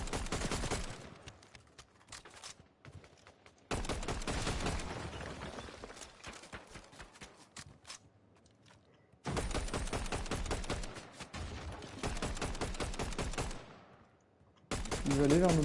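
Video game gunfire in bursts: rapid rattling volleys of automatic fire fill long stretches, separated by brief quiet gaps, loud and close.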